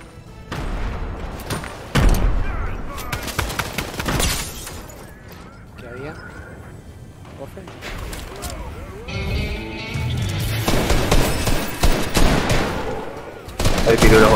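Rapid bursts of Fortnite gunfire and booming shots repeat throughout, with voices talking over the shooting.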